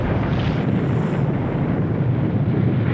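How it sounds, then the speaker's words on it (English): A roaring avalanche in a Nancy Drew video game set in snowy mountains, a loud continuous rumbling rush of snow that stays steady throughout, with no speech. "What's that noise? An avalanche."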